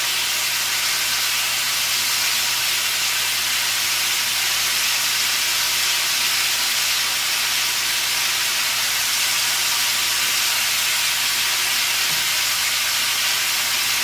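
Shrimp sizzle in a pot during one-pot BBQ shrimp cooking, a steady broadband hiss holding at an even level throughout, with no voices over it.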